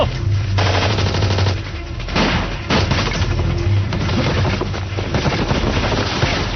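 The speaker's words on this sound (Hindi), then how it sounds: "ये गोलियां क्यों चल रही हैं?" Sustained heavy machine-gun and automatic gunfire in an action movie battle, with dense bursts, booms and thuds continuing loudly throughout, no voices.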